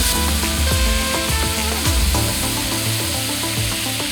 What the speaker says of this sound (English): If the butter gets a little hot and brown, don't worry about it.